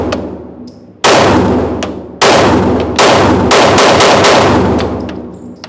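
A Glock 43X pistol with an extended beavertail is fired at a target 7 yards away, giving a string of loud, close shots a second or less apart, each trailing off into an echoing decay.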